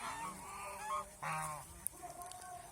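Domestic geese kept on a Bangladeshi farm give several close, loud nasal honks in quick succession, with a short sharp click near the end.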